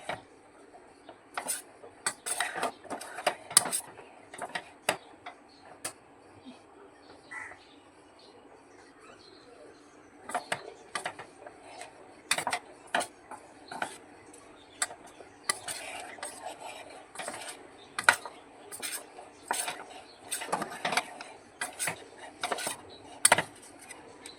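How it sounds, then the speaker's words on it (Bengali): Corn tossed with spices in a bowl, stirred in irregular bursts of soft scraping and clinking against the bowl, with quiet pauses between strokes and no talk. "এবারে সমস্ত উপকরণগুলো খুব ভালোভাবে একটু মিশিয়ে নেব"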